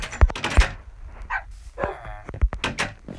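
Dogs in the Minecraft video game give a few short barks and yips, with sharp thuds between them and a voice talking briefly over the game sounds.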